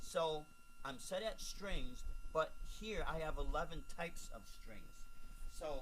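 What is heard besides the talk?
No everyday noise stands out behind the speech.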